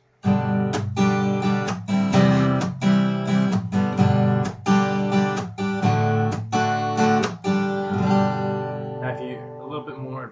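An acoustic guitar strums the verse chord pattern of a song in a steady, rhythmic pattern, close and bright, ending on a ringing chord that fades out.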